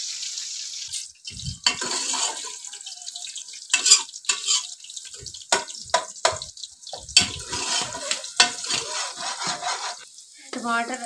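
Onions frying and being stirred in a pan on a home kitchen stove, with scraping stirs, sizzling and watery splashes in irregular bursts, close and fairly loud, without any talking.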